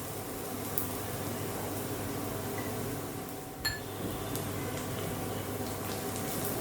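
Chopped onion fries in oil in a pan for Maharashtrian karela bhaji, a steady, dense sizzle throughout, with one faint utensil clink partway through.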